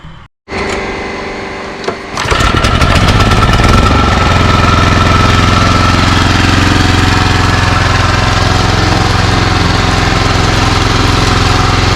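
An Exmark commercial lawn mower engine cranks briefly, then catches and roars loud and steady at close range, holding a constant running drone with no talk.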